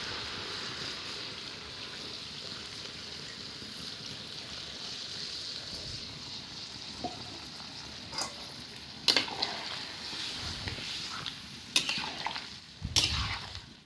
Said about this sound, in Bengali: তো দেখো এখন টকবগিয়ে ফুটছে